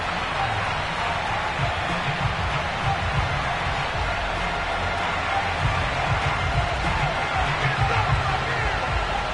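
Sellout stadium crowd in an EA Sports football video game, Falcons versus Washington, keeps up a dense, steady roar with commentary talking over it.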